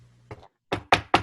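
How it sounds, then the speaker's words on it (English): A knock on a house door: a soft tap, a pause, then three firm, evenly spaced raps close by in an otherwise quiet room. "I'm assuming that was a knock."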